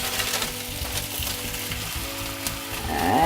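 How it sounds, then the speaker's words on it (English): A delicate cauliflower tortilla laid into a smoking-hot frying pan, a loud close sizzle and crackle with a faint scrape, rising at the end. "we're going to transfer the cauliflower wrap or the tortilla into the smoking pan"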